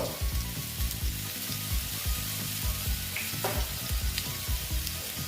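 Spices and Kashmiri chili powder sizzle steadily in hot oil in a frying pan for a Bengali bata fish curry with aubergine and potato, a close, continuous crackle with occasional stirring scrapes and no talk.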